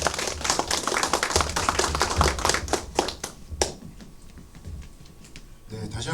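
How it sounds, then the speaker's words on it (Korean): An audience at a trust company's redevelopment briefing session applauds steadily for a few seconds to welcome a presenter, the clapping fading out into a quiet room. "큰 박수로 맞아주시면 감사하겠습니다"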